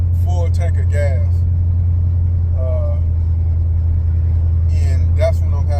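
The engine of a 1970 Chevy El Camino with a Fitech fuel system runs in a steady, deep, close rumble at idle, while someone talks intermittently over it.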